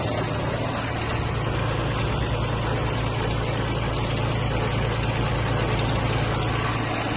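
A Kubota A-195 Japanese mini tractor runs steadily with its tiller blades turning, giving a loud, continuous engine drone with a constant low hum and no pauses.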